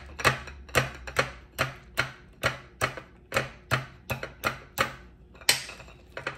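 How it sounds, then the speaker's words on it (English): The back of a spoon taps on the top of an egg, giving a steady run of about fourteen crisp, close knocks spaced roughly half a second apart. "First thing I do is crack near the top of the egg with the back of my spoon."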